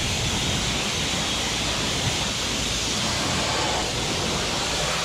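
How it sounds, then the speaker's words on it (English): A water spray hisses in a steady, even rush as it rinses car wheels at a luxury car wash, loud and constant throughout with no talking. "A final rinse finishes these wheels off."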